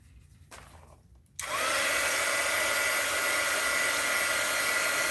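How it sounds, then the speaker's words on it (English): A heat gun switches on after a short quiet stretch and blows with a steady, loud whooshing roar for several seconds while drying wet ink in an art journal. "Let's get out my heat gun."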